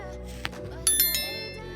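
A short notification bell sound effect rings a few bright metallic dings in quick succession, clear and close, with a light ringing tail and nothing else beneath it.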